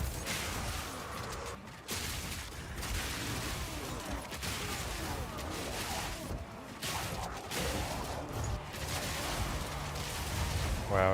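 Dense, continuous combat audio from the action RPG Path of Exile 2: repeated explosions and rapid weapon fire crackle and boom in a busy, unbroken barrage, with a few brief dips and a soft voice now and then.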